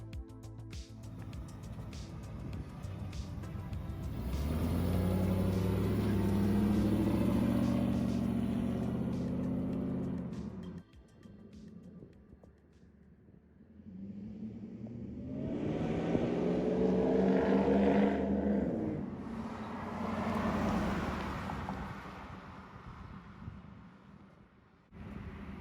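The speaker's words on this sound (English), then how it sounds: "Thought I'd come out here and give you guys like a sound clip with the new exhaust." A Ford SVT Lightning truck with long-tube headers and a Magnaflow exhaust rumbles deep, throaty and raspy, swelling loud in two long revs separated by a quieter idle, exhaust roaring close by.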